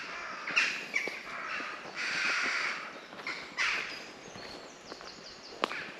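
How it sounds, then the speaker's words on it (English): Several harsh crow caws ring out in loose bursts, fairly loud against an outdoor background with a few sharp knocks and rustles, beside an abandoned stretch of the Leeds and Liverpool Canal in the UK. "Birds are going ape."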